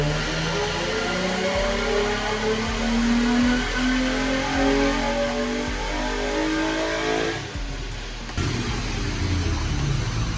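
A 2003 Nissan 350Z sports car engine, freshly remapped to about 286 bhp, revving hard on a dyno: loud, continuous climbing engine howl through repeated rising pulls, with no talk.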